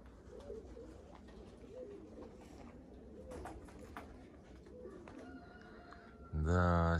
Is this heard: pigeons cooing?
yes